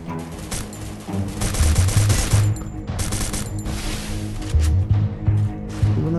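Dense gunfire from the Free Fire mobile battle royale game, rapid bursts and sustained automatic fire with repeated shots crowding together, loud and continuous throughout with no talking.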